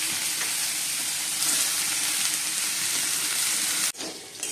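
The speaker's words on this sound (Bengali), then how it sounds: "আর ভাজার জন্য আলু, কুমড়ো, বেগুন, উচ্ছে, এই সবজিগুলো ছিল অল্প অল্প, এই জন্য ভাবলাম ভেজে নিই" Chunks of potato, pumpkin, eggplant and bitter gourd fry in hot oil in a kadai, giving a loud, steady, hissing sizzle that rises briefly. Near the end it breaks off in a quick drop with a clatter.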